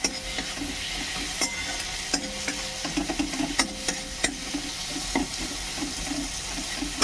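Tomato and onion frying and being stirred in a pan, with a steady sizzle and repeated clinks and scrapes of a spoon against the metal, close and continuous.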